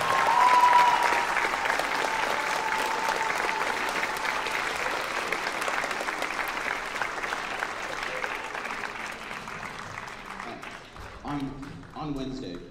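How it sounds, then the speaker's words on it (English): Sustained audience applause for co-conductors at a school March concert, a dense steady roar of many hands that holds strong for most of the stretch and then thins toward the end, where a few voices come through. "Please give my co-conductors another round of applause."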